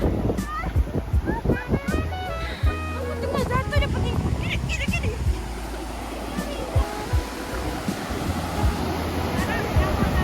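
Strong gusting wind buffets the microphone on a beach in Mersing, with surf rolling behind it and people talking and laughing throughout.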